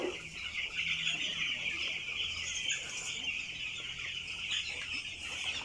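Broiler chickens about eleven days old clucking and peeping on a farm, a steady crowd of bird calls that holds throughout with no talk over it.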